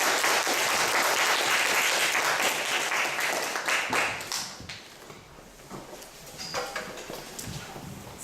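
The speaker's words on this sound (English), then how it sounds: "a big round of applause" Loud applause from a lecture audience welcoming a speaker to a human rights talk, a dense burst of many hands that thins into scattered claps before fading near the end.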